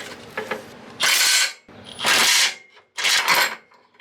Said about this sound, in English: Now we're going to go ahead and undo the 2 bottom bolts.